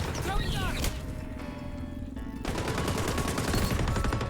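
Rapid, continuous automatic gunfire from the first-person shooter XDefiant, loud and close, with a brief lull before another dense burst of shots.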